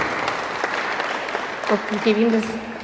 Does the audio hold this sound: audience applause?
yes